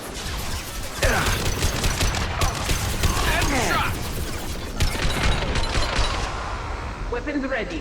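Gunfire in Mass Effect 2, sustained rapid bursts of shots with booms and mechanical clatter, with in-game voices speaking over the firing.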